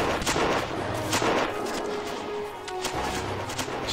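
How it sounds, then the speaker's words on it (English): Dense rifle and artillery fire crackles continuously in the World War I game Battle of Empires 1914-1918 during a station defense, with sharp shots layered over a rumbling battle bed. "We're already shooting some Bosch right out of the bushes here."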